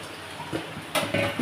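Gravy poured into a pot of lata fish and bottle gourd curry gives a sudden close splash and sizzle about two-thirds through, after quieter stirring and pot scrapes.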